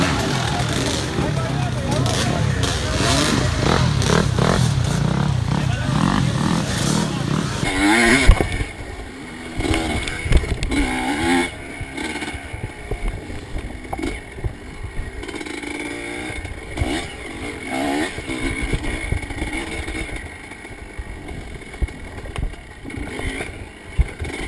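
A 1985 Yamaha IT 200 two-stroke dirt bike races in a TKO event, its engine revving loud and close at first, then fading to a rougher, more distant buzz over outdoor background noise.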